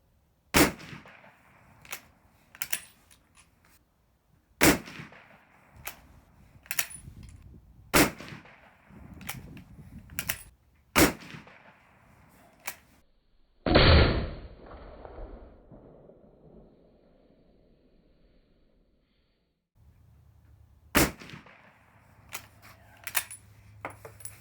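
Repeated rifle shots from an M1917 military surplus rifle at a 50-yard range, sharp loud cracks spaced a few seconds apart with a louder blast midway, then a pause and more shots near the end.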